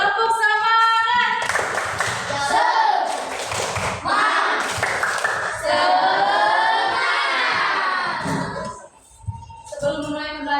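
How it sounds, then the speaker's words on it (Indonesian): Schoolchildren in a classroom doing a rhythmic clapping chant, loud group voices chanting in unison with sharp claps and thumps woven through, ending in a short final burst. "Coba kalau masih semangat, tepuk semangat dulu. Tepuk semangat."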